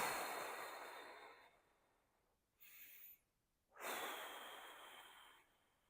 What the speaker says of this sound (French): une courte inspiration, soit par le nez, soit par la bouche, et une plus longue expiration